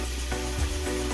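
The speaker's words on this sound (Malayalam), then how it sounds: "ഉണങ്ങിയ തേങ്ങാക്കൊത്ത് നല്ല പൊടിയ വറുത്തിട്ട്" Dried coconut pieces fry in hot oil with a steady, close sizzle and faint crackle for about a second, with no voices.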